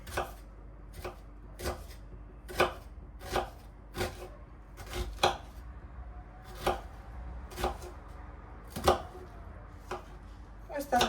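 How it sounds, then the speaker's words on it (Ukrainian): A knife finely chops onion on a cutting board in steady, fairly regular strokes, quiet and close, with faint scraping between cuts. "І нарізаю ще одну цибулину. Так дуже дрібнесенько."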